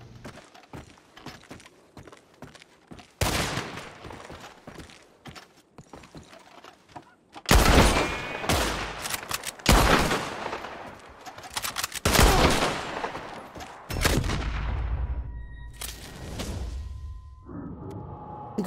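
Gunfire in the video game Red Dead: scattered faint shots early on, then loud close bursts and repeated heavy shots with whooshing impacts and some movement noise between them.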